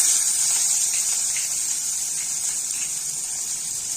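Asafoetida and dried red chillies sizzling in hot oil in a pan, a steady close hiss and spatter that holds evenly throughout, with no talk.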